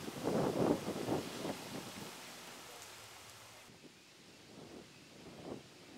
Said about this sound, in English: 20-mile-an-hour wind right into our face here.